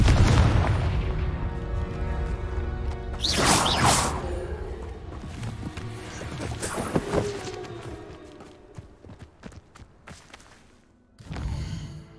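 Spell explosions from Bombarda and Confringo in Hogwarts Legacy, a string of booming blasts with whooshing bursts, loud and close, fading then one more burst at the end.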